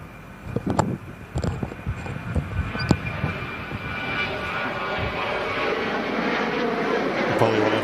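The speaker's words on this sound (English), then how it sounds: "Next in, Egypt Air A321neo." An Egypt Air A321neo airliner arrives overhead, a broad rising engine roar building steadily over several seconds, with a few sharp knocks and clatter early on and distant background noise.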